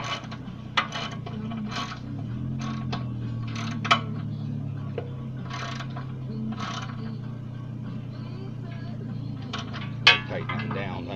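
A ratchet wrench tightens bolts on a log splitter, irregular bursts of quick clicking and metallic clinks over a low steady hum, with a few sharper clanks of tools.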